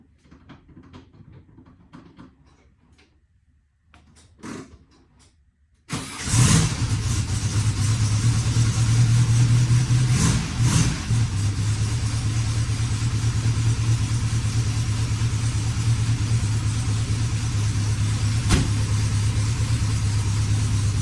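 A 1965 Volkswagen Beetle is cranked and its engine catches, then revs up with a few blips and settles into a loud, steady idle close by for over fifteen seconds; faint handling noises come before the start.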